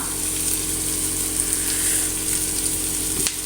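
Onion and cabbage sauté in butter in a pan for a chappathi egg roll, giving a steady, even sizzle that runs without a break, with a soft clatter near the end.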